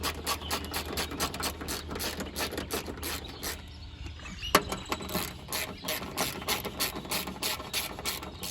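Wrench or ratchet tightening bolts on the engine of a 1987 Mk3 Supra, a steady run of quick clicking strokes close by with a short pause midway, no talking.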